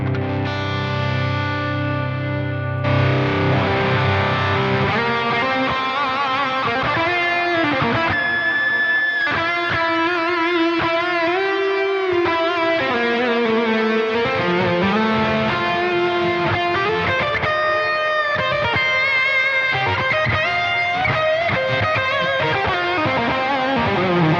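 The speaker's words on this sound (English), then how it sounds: "So this is without the Vemuram." Electric guitar played through the crunch channel of a Kraken MKII amp with no overdrive pedal, crunchy and mildly distorted, strummed chords and single-note lines, steady and fairly loud with no other sounds.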